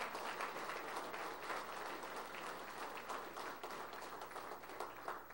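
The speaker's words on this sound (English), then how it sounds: "Let's give another round of applause for the 4 guys on the podium." Sustained applause from a banquet audience at an end zone awards banquet, many hands clapping loudly and continuously for several seconds, a dense crowd sound with no speech on top.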